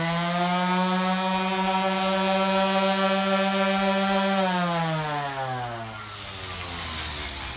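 A Festool sander with a dust bag attached runs at a steady, loud motor whine, then its pitch drops as it slows near the end.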